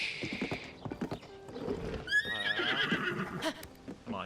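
A horse in Zelda: Tears of the Kingdom neighs, a clear whinny in the middle, with clip-clop hooves and game sounds around it and faint voices now and then.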